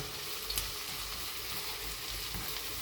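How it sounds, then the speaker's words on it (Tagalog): Vegetables sautéing in butter in a wide pan give a steady, close sizzle and crackle with faint stirring, no voices. "Saute lang siya ng konti"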